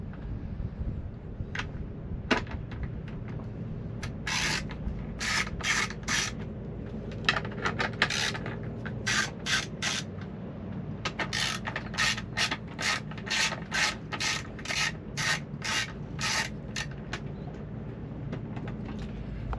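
A ratchet wrench clicks in quick bursts while 10mm bolts holding the fuel tank on an outboard motor are loosened, repeated rapid ratcheting runs over a low, steady background hum, close and fairly quiet.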